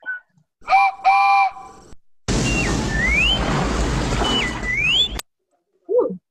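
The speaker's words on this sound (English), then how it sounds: "Where's the train whistle?" A train whistle sound effect plays in a block-coding game: short steady whistle blasts, then a long loud hissing steam whistle with sliding pitch that stops abruptly, followed by a brief fainter whistle.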